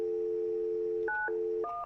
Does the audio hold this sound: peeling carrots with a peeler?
no